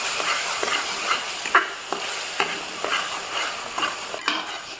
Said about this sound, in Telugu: ఈ మసాలాను వేసి బాగా మిక్స్ చేసుకోవాలి.